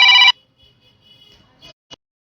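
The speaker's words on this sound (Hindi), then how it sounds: "फोन आ गया था किसी का" A phone ringtone sounds in one short loud burst at the start, followed by near silence broken by a couple of faint clicks.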